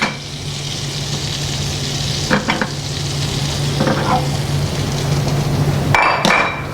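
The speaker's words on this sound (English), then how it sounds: "our butter is foaming, pan's good and hot, and we're going to cook trout and sheephead both at the same time" Butter foams and sizzles in a hot pan before trout and sheepshead fillets go in, a steady close crackle with a low hum under it. A few metal clinks and scrapes of a utensil on the pan break in now and then.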